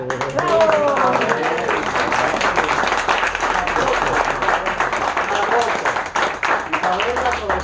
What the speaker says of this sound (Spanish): yo voy a pedir a todos los presentes un fuerte aplauso para una dama que está aquí